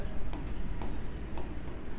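Chalk or marker taps and scratches across a classroom board in short, quick strokes, a close, brittle scribbling over a faint room hiss.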